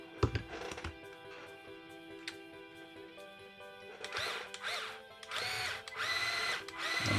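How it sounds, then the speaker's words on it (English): A power drill snugs down differential bolts, giving a few sharp clicks early on and then two loud whirring bursts of about a second each, up close with no talk. "I'm just going to snug these down to be close, and then I will finish them with my hand wrench."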